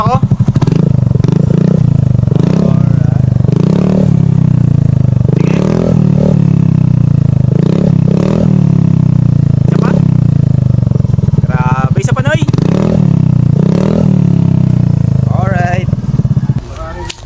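A Mio Soul i125 motorcycle fitted with an Akrapovic full-system exhaust revs hard again and again, its loud, close engine note rising and falling in repeated bursts over a steady throaty base.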